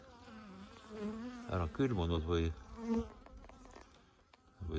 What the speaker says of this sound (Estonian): aga sellele tarule paistab päike peale ja mesilased on aktiivseks muutunud.